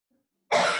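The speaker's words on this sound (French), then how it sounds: "Quelqu'un a son micro allumé là, il tousse." After half a second of near silence, a single short cough bursts out close to an open microphone, loud and harsh.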